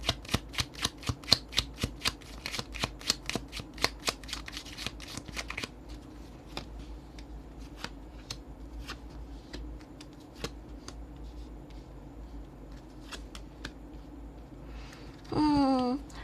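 Tarot cards are shuffled in a rapid run of crisp riffling snaps, then slower single flicks and taps as they are laid out, close and clear, with a brief voice near the end.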